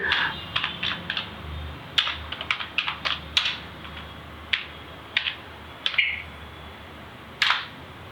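Typing on a computer keyboard to enter a search into Google: irregular bursts of sharp, close key clicks, some in quick clusters and others spaced apart, over a quiet background with no speech.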